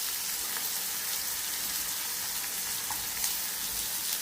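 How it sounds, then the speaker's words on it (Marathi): Chopped onion and green chili sautéing in a pan for a pea and spinach sabji, with a steady, close hiss and sizzle and faint stirring crackles throughout. "जरासा परतून घेते मी।"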